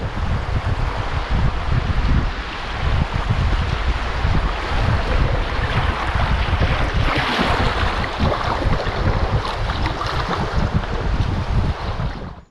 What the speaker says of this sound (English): There's actually a little stretch of rapids here on the Black near the start of Hawk Island.